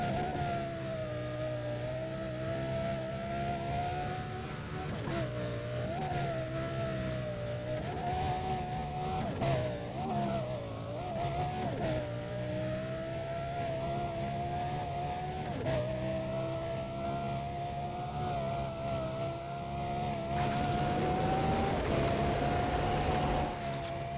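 A Lamborghini Gallardo engine roars continuously during a race in Need for Speed Undercover, its pitch climbing and dropping through gear shifts, with a brief skid and a louder surge near the end.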